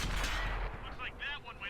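Tank cannon fire in World of Tanks booms loudly at the start and rolls off into a rumbling decay, with faint chirpy game effects trailing after.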